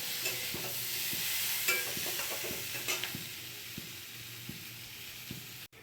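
Pumpkin, potato and spices frying together in a pan, a soft steady sizzle with occasional stirring scrapes and light knocks, close and fairly quiet, no voices.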